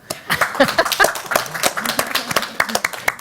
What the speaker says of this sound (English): if you want to just clap when you hear something you like, you can clap.